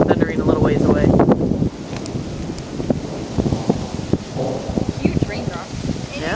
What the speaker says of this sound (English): it's lightning and thundering a little ways away.